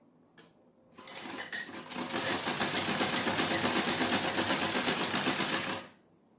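A sewing machine stitches the shoulder seam of a lined blouse, starting with a few slow stitches, then running in a fast, even, rattling whir for several seconds before stopping, with no talking.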